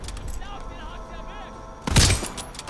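Call of Duty gunfire bursts in as a loud, sharp volley of shots about two seconds in, following a stretch of quieter in-game ambience with faint chatter and effects.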